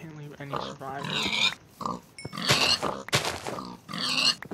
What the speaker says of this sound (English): Kill all the pigs.